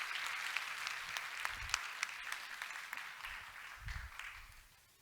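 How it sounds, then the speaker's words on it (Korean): A church congregation applauds together to bless a couple's marriage, steady dense clapping that lasts several seconds before fading out, heard from within the room with no talk over it. "두 사람 결혼 미래 우리 박수로 한번 축복합시다."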